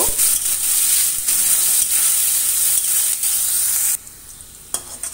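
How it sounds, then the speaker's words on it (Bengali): Chopped onion and garlic fry in hot oil in a pan for a Bengali fish-roe bhurji, hissing loudly and steadily with stirring, then the sizzle abruptly softens near the end. "পেঁয়াজ কুচি, পেঁয়াজ আর রসুনটা খুব ভালোভাবে ভেজে নেব।"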